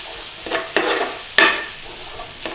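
Spices and watered-down tomato puree sizzle in a hot pan for a BIR-style bhuna, with a steady frying hiss broken by loud bursts as the mixture is stirred.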